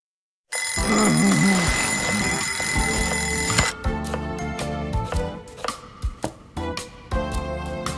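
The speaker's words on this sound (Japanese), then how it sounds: "目覚ましの場所変えたのに、よく寝たまま止められるね" An alarm clock rings in the video game Lost Judgment, a loud, dense, continuous electronic ring for about three seconds. It then cuts off and gives way to a series of sharp clattering knocks and bumps.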